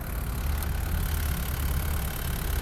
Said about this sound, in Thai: เครื่องยนต์นะครับสี่สูบนะครับ